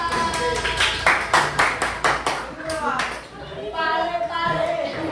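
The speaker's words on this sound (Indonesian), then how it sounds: "beri tepuk tangan untuk kelompok 3." Students in a junior high school science class clap for group 3, a brief burst of hand claps close by, mixed with children's chatter and a teacher speaking over it.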